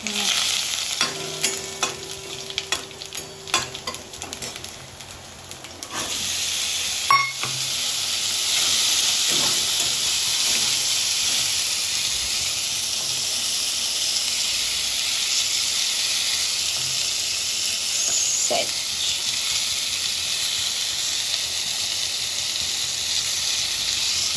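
Curry leaves and garlic go into hot oil with a pinch of asafoetida and set off a loud, continuous hiss. A few stirring clatters come first, then the sizzle holds steady and close for the rest.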